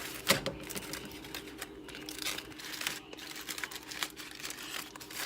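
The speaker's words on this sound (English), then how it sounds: "we're just gonna wrap it up, not so tight because you don't want the cheese stick to your foil" Aluminium foil is wrapped loosely around a foil pack holding potatoes, steak, bacon and cheese, giving close, continuous crinkling and crumpling with sharper crackles and rustles throughout.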